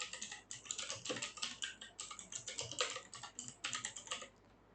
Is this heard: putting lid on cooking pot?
no